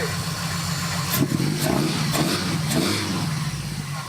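A Toyota Tercel engine being revved up and down a few times, loud and close, with a rough mid-pitched rise and fall over a steady idle.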